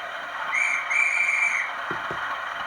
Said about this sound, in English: Function 12 is guard whistle.